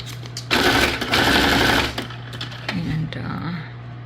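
A sewing machine stitches paper junk journal tags in a loud, steady mechanical burst of rapid needle strokes lasting over a second, then stops and runs again more briefly amid faint handling noise.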